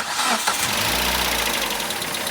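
A car engine with failing bearings starts up and runs roughly, a loud, close mechanical racket that holds steady.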